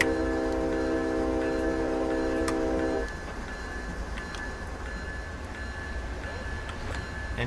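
A freight train in Train Simulator 2017 runs with a steady rumble and clatter, a sustained horn tone for the first few seconds, then continued rolling noise with faint ticking.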